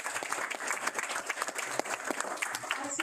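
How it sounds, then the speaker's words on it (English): Steady applause from an audience at a Guam government award ceremony honoring FEMA and Guam Homeland Security staff, dense and even clapping sustained throughout without pause. "Let's give you a round of applause."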